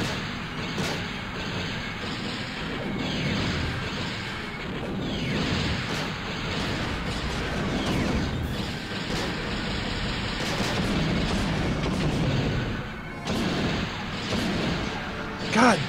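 Enemy blaster fire in the Star Wars: Shadows of the Empire game, with dense repeated shots and crashing impacts over a continuous rumbling battle din, mixed with some speech.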